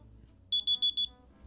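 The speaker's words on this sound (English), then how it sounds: "See, that was just my alarm to remind me to do this video." A phone reminder alarm goes off with four quick, evenly spaced electronic beeps, fairly loud and close, over a quiet low background hum with no talking.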